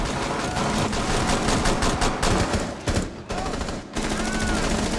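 Rapid bursts of automatic gunfire in the video game Rainbow Six Siege crackle almost continuously, dense and loud, with brief gaps before the shooting resumes.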